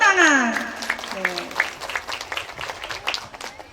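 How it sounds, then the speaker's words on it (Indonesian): An audience at a workshop claps briefly, scattered hand claps that start under a speaking voice and thin out into sparse, uneven patter. "tepuk tangan"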